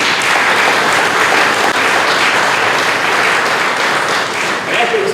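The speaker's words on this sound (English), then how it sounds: "So let's give them a round of applause." An audience at a fire station unveiling claps loudly and steadily for firefighters, a dense continuous applause filling the whole stretch.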